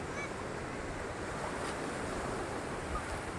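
Steady roar of ocean surf washing continuously onto Tondol Beach in Pangasinan, Philippines, with wind noise and no voices.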